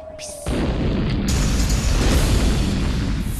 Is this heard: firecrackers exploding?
yes